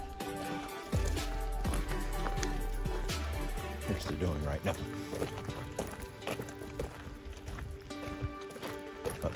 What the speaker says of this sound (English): if I walk the donkey nice and slow, we should be able to get them into the gate here